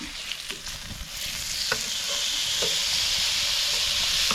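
A thick grass-fed steak sizzles in a pan for steak sandwiches: a steady frying hiss that swells after the first moment and holds at a constant level, close up, with no voices.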